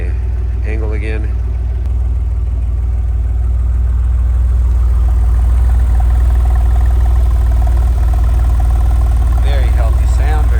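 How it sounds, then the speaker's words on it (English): A 1997 Porsche 911 993 Turbo idles with a steady, deep engine hum that stays close and even throughout, with a voice talking briefly near the start and again at the end. "Very healthy sound, very healthy idle, absolutely no strange noises, no vibrations"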